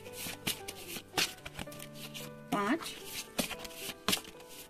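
Oracle cards shuffled and drawn from a tarot deck for a reading: soft papery riffles and flicks come in short bursts at a close distance, with steady background music underneath.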